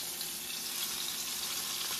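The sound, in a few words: water being fetched for cooking outdoors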